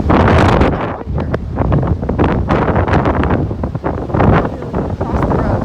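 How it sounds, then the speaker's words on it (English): Strong wind on a roadside route near a lake, blowing in loud, continuous gusts that buffet the microphone, with brief lulls between the gusts. "it is windier on this side than even the other side"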